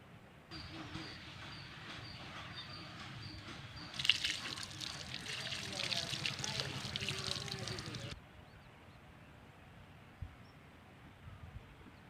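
Water splashes and trickles as pieces of country chicken are rinsed in a kitchen, a few seconds of louder splashing in the middle with a voice speaking throughout.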